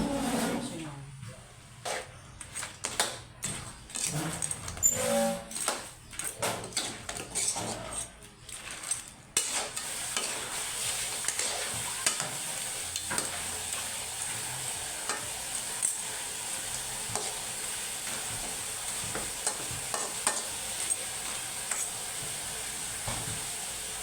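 Butter garlic shrimp and mud crab frying and being stirred in a pan, with steady sizzling hiss, scraping and clatter at first, then continuous frying sizzle throughout.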